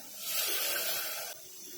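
A brief rush of water pours into a pot of cooking dal for about a second, a soft splashing hiss that cuts off abruptly.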